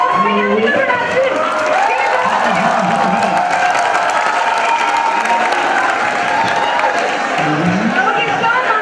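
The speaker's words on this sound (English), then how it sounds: "Here is also another applause." Audience applause and cheering at a college fresher welcome event at Thapar University, steady dense clapping from a crowd filling the whole stretch, with voices mixed in.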